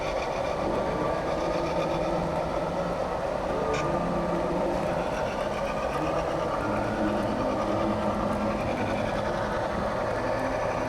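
An S gauge model train with a DCC sound system runs on a point-to-point layout on a six-foot table, giving a steady, dense mechanical hum and rumble that carries without a break for about eleven seconds, with no talking.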